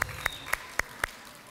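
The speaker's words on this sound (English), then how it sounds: "Another applause, please" Sharp isolated claps ring out at a World Refugee Day celebration and graduation, five evenly spaced slaps about a quarter second apart, fairly faint against a quiet room.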